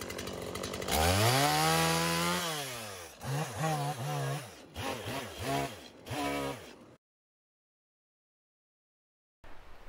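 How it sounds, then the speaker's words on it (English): A chainsaw engine roars up close while trimming branch nubs off a log, its pitch sweeping up and down through several hard revs for a few seconds before cutting off into silence. "we'll just cut these extra branch nibs off with the other chainsaw"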